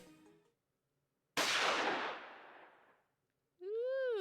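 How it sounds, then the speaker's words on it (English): A single loud gunshot-like blast from an otome visual novel game, sharp onset followed by a long decaying rumble, then a rising synthetic tone; no talking. "Ooh, who got shot?"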